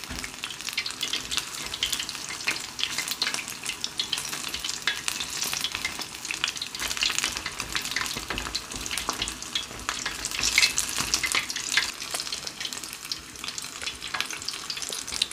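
Conch fritters fry steadily in hot oil, giving a constant bubbling crackle and sizzle close up with light stirring, and no voices over it.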